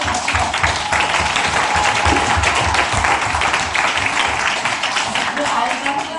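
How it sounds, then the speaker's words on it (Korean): A crowd at a Christian school vision camp lecture applauds, sustained dense clapping filling the hall at a steady loudness. "자, 박수 좀 다시요."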